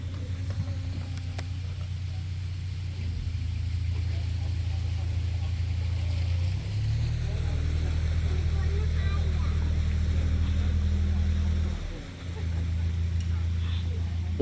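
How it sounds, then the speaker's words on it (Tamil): A boat motors out of a Thames lock on the Wey and Godalming Navigation, its engine a steady low drone close by for the whole stretch, dipping briefly near the end. "இப்போ இந்த போட் லொக்கை விட்டு போய்கொண்டு இருக்குது."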